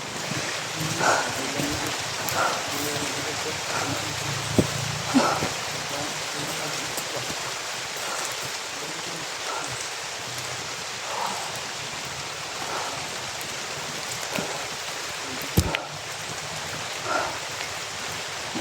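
Steady rain falls and patters on a surface, soft and continuous, with occasional louder drips and splashes standing out nearby.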